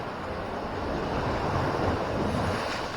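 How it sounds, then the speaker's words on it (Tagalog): A loud, sustained rush of surf as a big ocean wave rolls and breaks at Capones Island, Pundaquit, mixed with gusty wind buffeting the microphone. "malaking alon."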